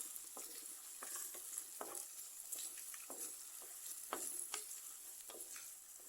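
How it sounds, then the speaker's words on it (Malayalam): Onions, green chillies, ginger and curry leaves sautéing in a pan for a Malayalam-style thoran, a soft steady sizzle with repeated scraping stirs at a quick irregular rhythm, close and quiet with no talk. "ഇതെല്ലാം കൂടെ നന്നായിട്ടൊന്ന് മൂപ്പിച്ചെടുക്കാം"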